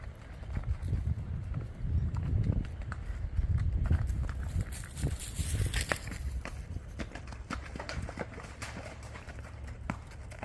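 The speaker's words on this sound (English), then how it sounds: "Here's Rocky gaiting, heading back towards the barn" A red roan sabino gelding walks in a gait along a path toward the barn on a farm in Kentucky, its hooves making soft, steady footfalls under wind and outdoor noise, with no talking.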